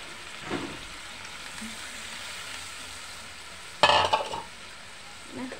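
Broth with pechay and fried bangus bubbles in a pan with a continuous low simmering hiss, topped by one loud clattering stir of a utensil against the pan and a softer clink near the end; no speech.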